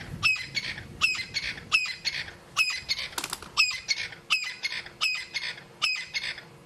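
A crested francolin on a South African safari reserve at sunset gives a rapid run of harsh, rhythmic squawks, about nine bursts in steady sequence, with wing flapping mixed in, loud and close with no talk.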